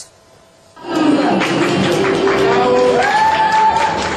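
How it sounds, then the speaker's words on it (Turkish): A crowd claps and cheers for horses paraded onto a podium at an Istanbul horse and equestrian fair, with steady applause and a few shouts after a quiet start, plus a tonal sound rising briefly midway. "Alkışlarla podyuma çıktılar."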